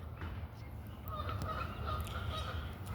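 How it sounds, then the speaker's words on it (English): Canada geese honking outdoors, a flock giving repeated overlapping honks, moderately near over a rumbling background, continuous across the few seconds. "Canadian geese"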